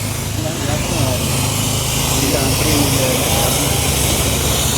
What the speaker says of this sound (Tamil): நல்ல ஸ்ப்ரே பம்ப்.